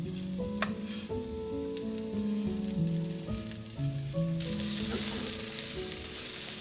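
Onions frying in a pan, a continuous hiss of sizzling with occasional stirring scrapes, heard close up beneath soft background music that grows brighter and louder toward the end.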